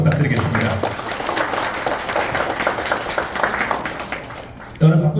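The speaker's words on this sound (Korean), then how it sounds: "서로서로 환영의 박수 부탁드리겠습니다." A gathering of Daejeon arts and culture groups and citizens applauds in welcome at a mayoral candidate forum in a hall, with steady, dense clapping that fades slightly, and a voice starting at the very end.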